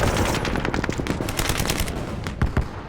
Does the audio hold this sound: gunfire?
yes